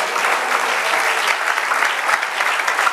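A church congregation applauds loudly during a sermon, a dense and continuous crowd of clapping that stays strong and even throughout.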